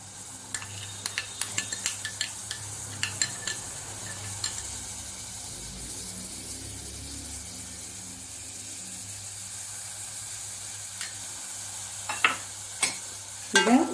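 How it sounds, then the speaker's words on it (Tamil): Senna leaves fry in hot oil for a homemade hair oil, giving a soft, steady sizzle with occasional light clinks of a stirring utensil against the pan. "முதல்ல எண்ணெய் நல்லா சுட்டுட்டு இப்போ நம்ம இந்த நிலவாகையை போடுவோம்"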